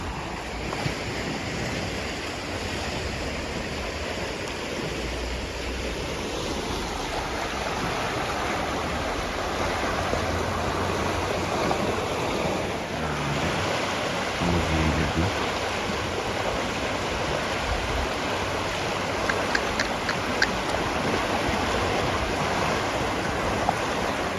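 Constant rushing water roars without pause, a broad, heavy flow like a swollen river, with wind buffeting the microphone.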